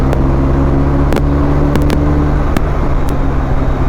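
A BMW R 1250 RT motorcycle engine accelerates under a loud, steady road roar and wind noise, with a few sharp clicks standing out, close and continuous.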